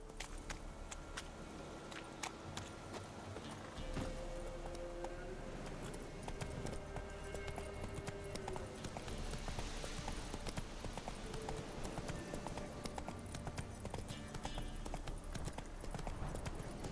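Roach the horse in The Witcher 3 gallops with rapid, steady clip-clop hoofbeats throughout, joined by soft jingling tack and ambient game sound, with no talking.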